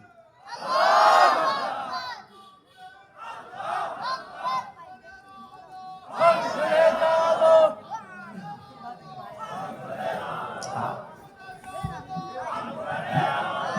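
A crowd at an Islamic religious gathering in Nilphamari shouts the takbir back in loud bursts that rise and fall across the clip. Voices mix in a roaring, chant-like swell.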